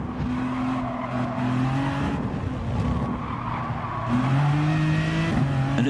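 Race car in GT Sport braking hard into the first corner, engine tones dropping and shifting with squealing tires and skidding, loud and continuous without talk.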